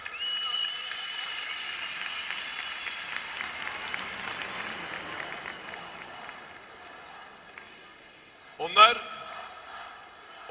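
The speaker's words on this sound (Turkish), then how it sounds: "Alkışlarınızla." An audience at a gathering breaks into sustained applause, dense clapping that carries for several seconds and fades, followed by a short loud knock near the end.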